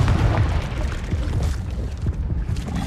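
A Confringo fire spell exploding in a Harry Potter video game, a loud, deep rumbling blast that rolls on continuously with layered booms and no talk.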